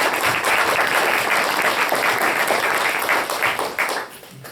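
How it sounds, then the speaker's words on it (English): Loud, sustained applause from an audience welcoming candidates at a Chatsworth, NC 2020 candidate forum, dense clapping that holds steady for several seconds before tapering off near the end. "I think we can go ahead and give applause for"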